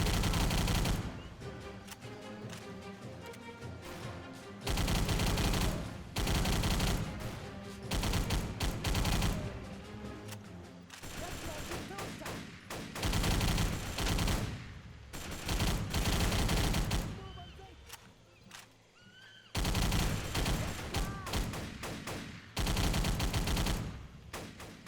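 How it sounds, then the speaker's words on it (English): Type 100 submachine gun fire in a video game comes in long, loud automatic bursts separated by short pauses, repeated rapid shots dominating throughout. "I'm going to let these enemies run into a bullet wall."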